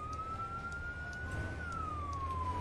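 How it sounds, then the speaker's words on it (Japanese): A fire truck's emergency siren in the Firefighting Simulator video game wails as one steady tone that rises slightly and then falls, sounding moderately distant over a low rumbling engine. "緊急サイレン、とりあえずサイレン出そう。"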